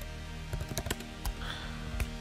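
Keys tapped on a MacBook Pro keyboard in a series of quick, close clicks, some clustered and some spaced, over a faint steady background hum.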